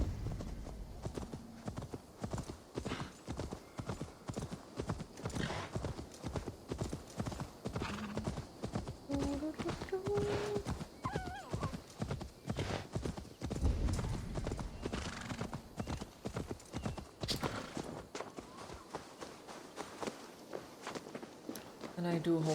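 Horse hooves from Assassin's Creed Valhalla clop in a steady, rhythmic gait throughout, moderately close, with a voice talking over them.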